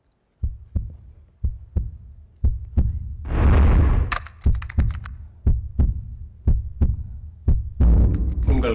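Loud, close heartbeat pulses thud in a steady rhythm of paired beats, briefly swelled by a rushing whoosh midway and a hiss near the end, with no talking over it.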